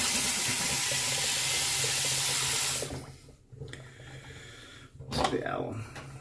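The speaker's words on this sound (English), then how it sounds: "Let's get rinsed off." A bathroom tap runs in a strong, steady stream for a few seconds while a face is rinsed after a shave, then shuts off, leaving soft splashes and dripping.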